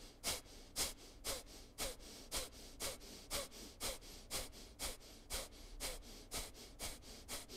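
Sharp, forceful yoga exhales in breath-of-fire style, a steady run of about twenty rapid nasal bursts evenly spaced, close and alone with no talking.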